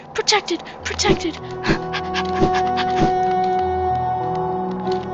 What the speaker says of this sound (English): Why did I start panting like a dog?